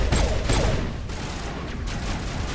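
Gunfire in the video game Mass Effect 1 during combat, dense and continuous, like rapid automatic fire mixed into loud, steady game noise, with no speech.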